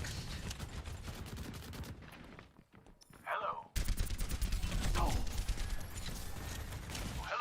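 Wrecking Ball's guns firing in an Overwatch replay, rapid bursts of automatic gunfire in two stretches split by a short quieter gap, loud and close with busy game noise underneath.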